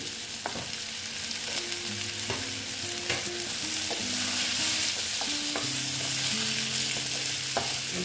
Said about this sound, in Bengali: দিয়ে আবার ঝিঙের সঙ্গে অল্প আমি নেড়ে চেড়ে নিচ্ছি।